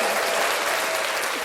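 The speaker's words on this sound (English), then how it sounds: "Do we have an applause button for that?" A canned applause sound effect plays as a short burst of dense crowd clapping and cheering, steady and loud from start to finish.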